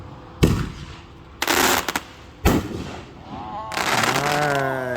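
A 6-inch Tactical Penguin artillery shell by Great Grizzly goes off outdoors at a fireworks test shoot in Puyallup, Washington. Three sharp, loud booms follow one another, then a sustained burst of crackling with whistling, sweeping tones.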